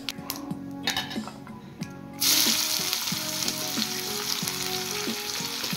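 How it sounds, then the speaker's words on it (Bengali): Chopped onions hit hot oil with whole cumin and bay leaf, a sudden loud sizzle that swells and holds steady, while a spatula scrapes and taps the pan at a regular rhythm. "এবার পেঁয়াজগুলো একটু ফ্রাই করে নেব।"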